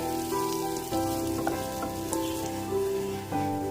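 Cumin and spices sizzle in a pan over a low flame as a tempering for egg masala gravy: a continuous, close crackle with steady tonal music-like sounds underneath.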